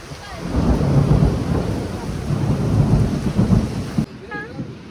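Heavy rain pours steadily with rolling thunder and strong wind, a dense loud roar that continues for about four seconds before cutting to a quieter patch with faint whistling tones.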